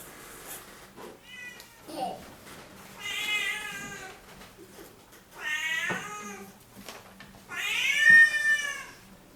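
In a Ukrainian puppet show, a performer's voice imitates a cat meowing: three drawn-out, wavering meow phrases, each louder than the last, with short pauses between them.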